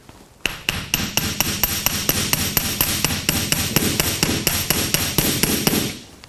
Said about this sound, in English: Here I have my chasing hammer, and I'm just going to hammer the end.